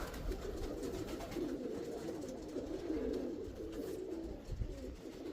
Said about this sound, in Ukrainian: А голубки тут на місці.